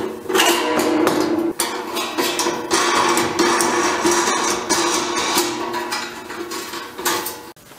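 Metal parts of a portable campfire pizza oven clank, rattle and scrape together during assembly, a dense run of close, bright metallic knocks and clatters with no talking.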